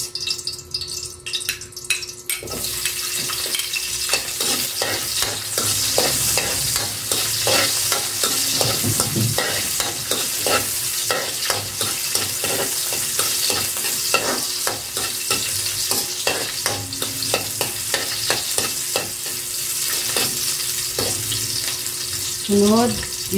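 Onion sizzling steadily in a hot pan for a Filipino chicken pochero, with frequent scraping and clacking stirring strokes throughout and a brief clatter at the start; no speech.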